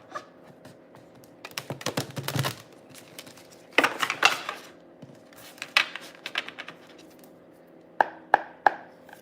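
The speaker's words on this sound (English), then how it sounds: "Now this deck is so velvety and smooth, but it makes it absolutely hard to shuffle." A soft, velvety tarot card deck being shuffled by hand, giving off several short bursts of crisp, clicky card flicks separated by quiet pauses; close and moderately loud, with no talking.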